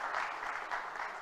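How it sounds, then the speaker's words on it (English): Audience applause for a Shark Tank panel, a dense steady clatter of many hands clapping together in a hall, sustained and fairly loud throughout with no pauses. "I'll start with a round of applause for each of them"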